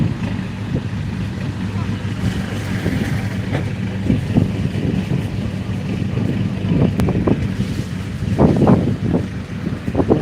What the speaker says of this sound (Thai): นี้ลมแปลกๆมันจะฝนจะตกหรือเปล่า